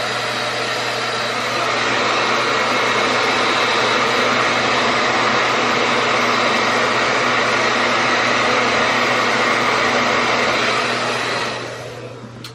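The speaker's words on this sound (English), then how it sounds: "I'm gonna turn my blow dryer on" A hair dryer blows warm air steadily at close range, a continuous loud whooshing hum with a low motor drone, easing off at the very end.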